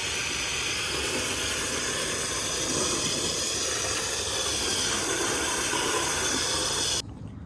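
A steady, loud hissing water spray rinses down a 4WD car at close range, continuous for several seconds before cutting off abruptly near the end.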